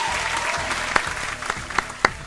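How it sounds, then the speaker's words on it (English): Brief applause, a soft wash of clapping with a few sharper individual claps standing out near the end. "Round of applause to you."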